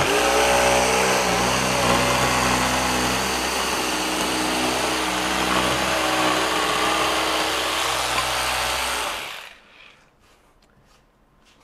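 A Festool PSC 420 Carvex 18V brushless cordless jigsaw cuts through hardwood with a loud, continuous high buzzing whine for about nine seconds, then stops abruptly and leaves faint handling noises.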